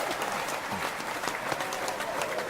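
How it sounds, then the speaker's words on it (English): A studio audience claps steadily for a band at a live session, with dense, even applause filling the whole moment and no voices standing out. "I'm glad we got to hold for applause."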